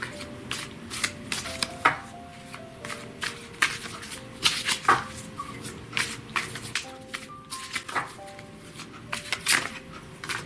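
Tarot cards are shuffled for a reading, giving repeated crisp riffling and slapping bursts at an irregular rhythm, close and fairly loud, with no talking.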